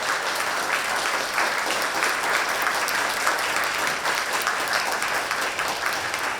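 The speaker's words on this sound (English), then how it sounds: "Let's give them a warm round of applause." Warm applause from an audience at an animation symposium as three directors come to the stage, a steady dense wash of clapping holding evenly for about six seconds.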